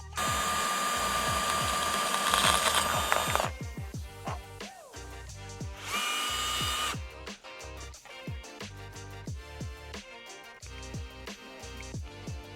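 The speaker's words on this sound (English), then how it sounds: "take your drill off of fancy high speed mode, put it in the slow mode" A power drill grinds steadily into a steel pocket knife at slow speed, boring a hole for a belt clip, with a labored pace, bursts of higher whine and rhythmic clicking, close and loud.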